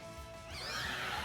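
A horse whinny from the Chilling Neigh ability in a Pokémon video game, a brief rising and wavering neigh that grows louder over about a second, heard alone.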